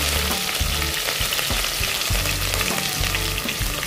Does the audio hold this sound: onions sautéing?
yes